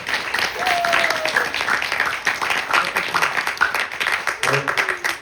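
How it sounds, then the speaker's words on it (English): Audience applause at a Navratri night religious gathering, a steady patter of clapping sustained for several seconds and partly blended with voices and crowd noise. "Give her a round of applause."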